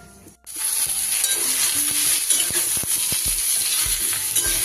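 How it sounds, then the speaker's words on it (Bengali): Brinjal (eggplant) pieces frying in a pan for begun posto, stirred repeatedly, producing a loud, constant sizzle broken by sharp scraping and knocking strokes of the spatula against the pan. "আবারও নাড়াচাড়া করে বেগুনগুলো কিন্তু সুন্দর করে ভেজে নিতে হবে।"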